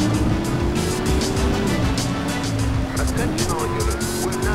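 A car driving in the game The Driver Syndicate, with a steady engine tone that shifts pitch as it goes and a few brief squeals near the end, running throughout under some game noise.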